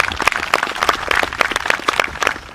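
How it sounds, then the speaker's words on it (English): A small group claps at a commemorative stamp launch event, sharp individual handclaps coming fast and uneven, close and moderately loud over a couple of seconds. "These women and everyone who made this day possible deserve a round of applause"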